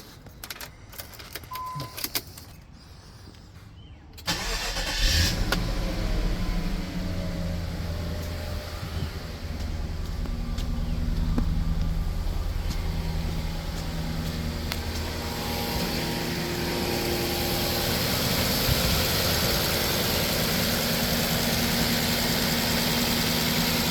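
An Infiniti Q45 engine cranks and fires at about four seconds after a quiet stretch with faint key handling, then settles into a steady, continuous idle that fills the rest of the clip.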